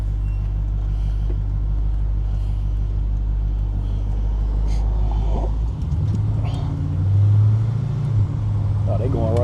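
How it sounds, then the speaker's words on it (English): Heavy fire truck engine rumbles nearby as it drives past without sirens, rising then shifting gears with a deep growl, while people talk over the engine noise. "Fire truck."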